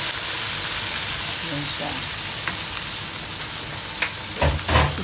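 Tomatoes sizzle steadily in hot oil alongside dried bisugo fish, a continuous loud frying hiss with a few stirring clinks, and someone speaks briefly over it.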